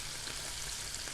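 Chicken liver pieces coated in ginger garlic paste fry in a pan with a steady, close crackling sizzle over a brief moment.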